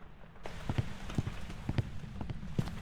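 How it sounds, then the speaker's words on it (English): Steady rain falls in the Phasmophobia game as a soft, continuous hiss, while evenly spaced low thuds like footsteps sound over it. "Especially with all this rain happening."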